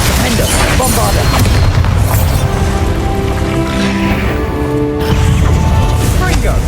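Spell blasts from Hogwarts Legacy, including Confringo, Glacius and Bombarda, boom and crash loudly in a dense, continuous barrage of in-game combat noise, with a voice speaking over it.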